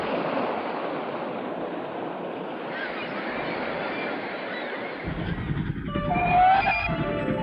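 A passenger train travels through open Spanish countryside, its steady broadband rumble and rolling rush continuing throughout, with a brief rise in clatter and faint tonal squeal near the end.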